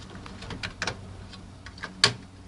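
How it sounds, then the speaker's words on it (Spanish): Plastic retaining clips on a computer CPU fan being released during desktop PC maintenance, giving a few soft clicks and one sharp, louder snap near the end, close by with no talk. "Pues procedemos a soltar los seguros del ventilador."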